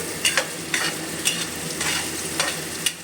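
Onions fry lightly in a pan, kept pale rather than browned, giving a soft steady sizzle broken by several sharp scraping stirs from a utensil.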